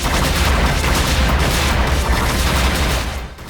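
Dense, continuous rumbling blasts and booming bursts fill the whole span in Freedom Planet's Battle Glacier, loud and chaotic like a constant barrage of game explosions, easing off at the very end.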